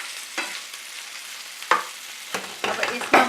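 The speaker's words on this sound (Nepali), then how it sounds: "चिकन 4 मिनेट फ्राई भइसकेको छ।" Chicken frying in a pan with a soft steady sizzle, broken by a few sharp scraping stirs of a utensil against the pan.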